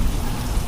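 Steady rain falls in a dense, even hiss, close and continuous for a brief moment, with no voices.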